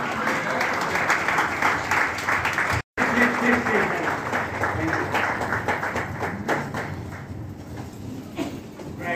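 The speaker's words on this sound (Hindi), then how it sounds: "जोरदार तालियां होनी चाहिए।" Loud, steady applause from a large crowd at a team-building seminar in Prayagraj, continuous clapping with a brief cutout near the start.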